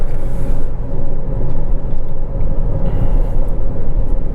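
Steady low road roar and rumble from the rear snow tires of a 2005 Ford Crown Victoria P-71 while driving, loud and continuous from inside the car with no breaks.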